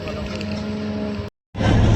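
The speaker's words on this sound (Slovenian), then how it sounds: "mi odhajamo iz Benetk z enim zelo glasnim čolnom" Loud motorboat engine pulling away from Venice, a steady droning hum with strong low tones that cuts out briefly, then returns even louder and rougher close by.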